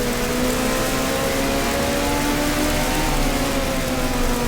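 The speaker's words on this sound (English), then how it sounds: "The rain under the tunnel is not credible." Rain in the F1 Challenge racing video game: a dense, loud, steady hiss of falling water across the whole stretch, with a faint engine drone underneath.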